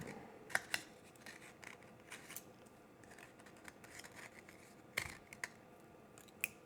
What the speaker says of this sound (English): I'm just going to take a scissor and trim some of this excess off